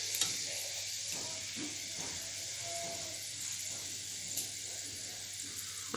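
Fenugreek seeds sizzle in leftover oil from frying tengra fish, a steady close crackling hiss that runs throughout with light stirring clinks.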